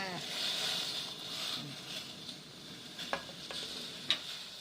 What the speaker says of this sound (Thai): หมอเดือดเต็มที่แล้วจ้ะ